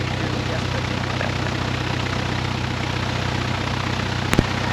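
A Cessna's piston engine idles at a steady low drone while the plane holds short at an airport taxiway on Guam, with a brief click near the end and no other clear sounds over it.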